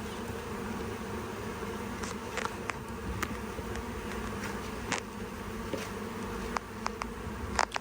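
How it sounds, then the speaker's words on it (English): Dense, continuous buzzing of many bees around an open beehive, close by and steady, with scattered sharper passes of individual insects and no talking. "The bees can still come up from the side here."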